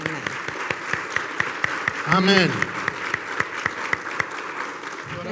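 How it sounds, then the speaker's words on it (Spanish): A church congregation at a Sunday service gives loud, steady applause to welcome visitors, with a brief spoken word from a voice partway through. "nosotros les damos la bienvenida con un fuerte aplauso"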